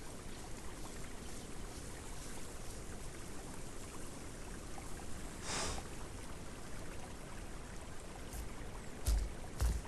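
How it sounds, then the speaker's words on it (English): A waterfall in the video game Path of Titans rushes as a constant, faint broadband roar, steady and distant, with a few brief splashing bursts near the end. "Sounds like there's a bit of a waterfall down that way."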